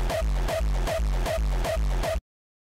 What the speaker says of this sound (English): I just felt I wanted to make a kick with some layers.